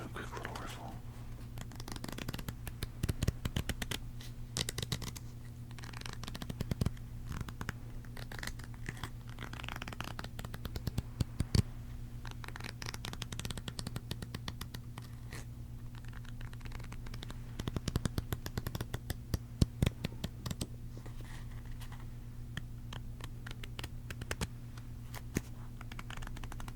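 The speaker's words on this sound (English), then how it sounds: "I'll do a quick little riffle." A deck of playing cards riffle shuffled several times in quick, crisp bursts of fluttering clicks, close and soft, with steady low hum underneath and quiet handling noises between riffles.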